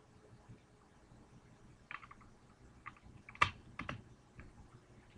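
The wings of an MMPR 2010 pterodactyl toy fold into place with a few faint, small plastic clicks and snaps, scattered and quiet against a near-silent background.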